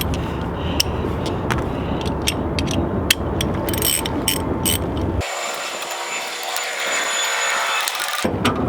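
A ratchet with a 12 mm socket loosens a bolt on a manual transmission, giving rapid close metallic clicking in quick bursts, then a stretch of thinner, higher mechanical whirring before the clicks return, with no talking.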